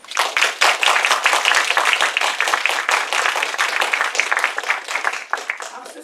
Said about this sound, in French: Alors merci aux assistants et assistantes et vous pouvez les applaudir.